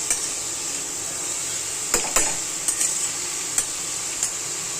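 Grated carrot sizzles in ghee for gajar halwa with a steady, bright hiss, punctuated by several crisp clinks and scrapes as a spoon stirs the pan; no voices.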